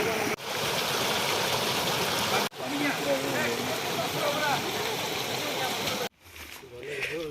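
A hidden waterfall near Cuttack rushes with a loud, continuous roar of falling water, broken by a couple of brief cuts, and people talk over it in places.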